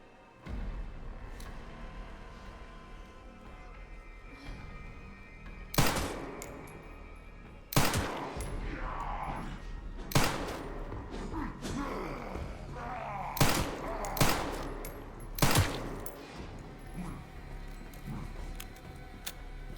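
Gunfire in the video game Resident Evil Requiem: six or so loud, sharp shots spaced a couple of seconds apart over low game ambience, with a brief groan heard in between.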